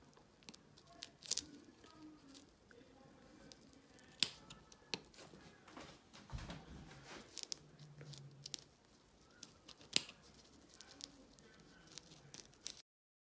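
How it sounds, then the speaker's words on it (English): Scissors snipping threads on a wig, giving scattered quiet crisp snips and rustles at close range, with faint handling noise in between. "you can kind of go under there and just cut the threads"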